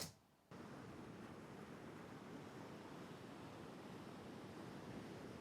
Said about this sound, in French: Une première piste de base qui est une piste de son d'air continu.